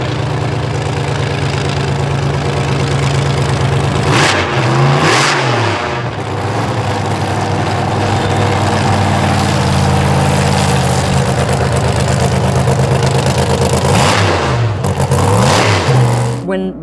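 A Canadian hot rod race car engine rumbles loud and steady throughout, with two sharp revving surges near the start and again near the end, a thunderous low drone underneath.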